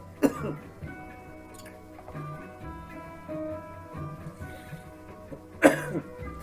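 Two sharp coughs, one at the start and another near the end, with quieter ticking and a faint musical hum in between.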